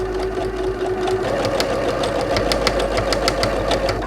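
Sewing machine whirring continuously with rapid rhythmic needle ticks, close and steady, stitching bias binding around the curved edge of a terry-cloth kitchen towel.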